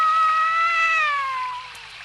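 A cartoon cat gives a single long, drawn-out meow that slides slowly downward in pitch, clear and fairly loud over a faint low background, fading toward the end.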